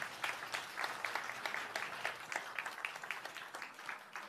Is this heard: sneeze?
no